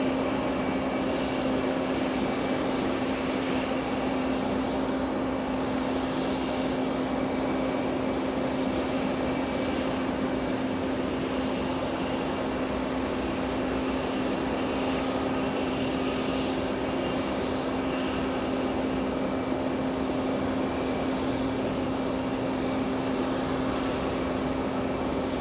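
An American Airlines airliner at JFK airport in golden pre-sunset light gives a steady, loud engine roar with a constant tonal hum, continuous and unbroken with no talking.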